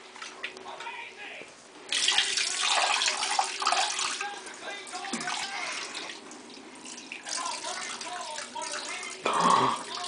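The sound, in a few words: water splashing during baby bath in tub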